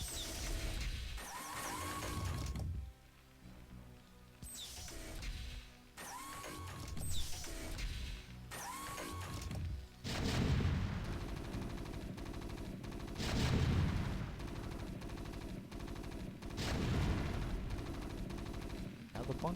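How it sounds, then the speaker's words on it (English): Siege tank artillery in a StarCraft match, with repeated heavy cannon blasts and clattering mechanical game effects spread across the scene, mixed with gunfire and playing under ongoing commentary. "walk right into siege tank fire"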